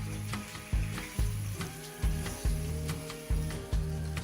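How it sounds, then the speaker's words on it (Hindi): Chicken pieces sizzle in a hot pan for a korma, a steady frying hiss broken by regular knocks of a utensil stirring roughly every half second. "1-2 मिनट और हम फ्राई करेंगे, लाइट गोल्डन करेंगे इसको।"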